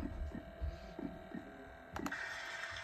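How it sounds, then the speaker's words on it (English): An Aroma Snooze sound machine plays its heartbeat sound, a soft, regular low thumping pulse over a constant electronic hum. "Then we have the heartbeat sound."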